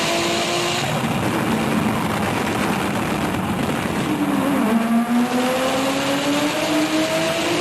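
Race cars roar past at a drag-style race for a second round, engines droning loud and steady throughout with rising pitch sweeps as they accelerate, roughly 150 to 200 wheel horsepower apart.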